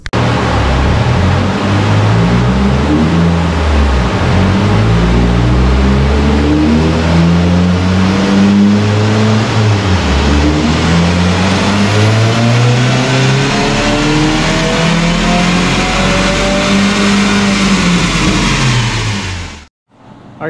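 A 2022 Subaru WRX engine revs hard on a dyno, climbing through repeated loud, rising sweeps with a few dips between pulls, close and sustained for about twenty seconds before cutting off abruptly.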